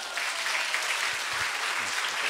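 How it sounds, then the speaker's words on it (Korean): Applause from a church congregation at a Friday evangelism service, a steady wash of clapping that fills the whole stretch at an even level. "아니 박수 주려면 확실히 주세요"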